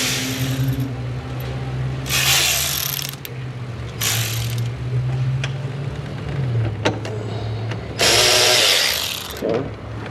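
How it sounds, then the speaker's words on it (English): A hand ratchet turns 10mm nuts in the engine bay of a Ford 6.0 Powerstroke diesel. It gives several close, loud bursts of rapid clicking, separated by pauses and low hum. "let me grab my ratchet"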